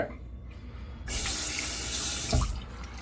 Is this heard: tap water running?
yes